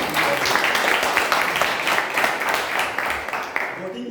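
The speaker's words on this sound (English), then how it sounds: "A big round of applause for all the participants." Continuous applause from participants at a Toastmasters club meeting, a steady dense patter of many hands clapping that holds fairly level for about four seconds before easing slightly at the end.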